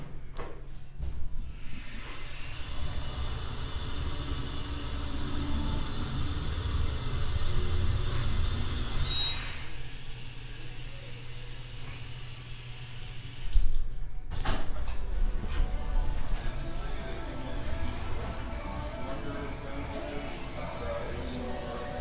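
An Otis HydroFit hydraulic elevator at Pasghetti's in Branson, Missouri, runs with a steady low hum and hiss. Partway through, its doors slide and bump with a soft thud, then the quieter machinery drone carries on.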